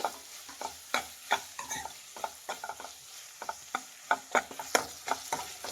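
Three medium tomatoes frying in a pan for dhaba-style paneer masala gravy, a soft sizzle under repeated scraping and stirring strokes with a spoon, a sharp clack on each pass, close up with no talk.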